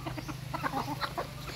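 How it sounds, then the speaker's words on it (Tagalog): Chickens on a farm clucking in quick, irregular bursts, fairly close and moderately loud over a steady low background hum. "Mga manok ito."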